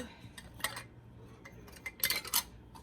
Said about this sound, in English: There's my lid on my jar.